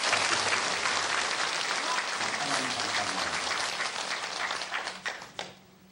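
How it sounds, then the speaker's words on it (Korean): A church congregation applauds its choir, steady, dense clapping across the room that holds for several seconds and then trails off into a few scattered claps. "박수를 치려면 크고 힘차게 치셔야 됩니다."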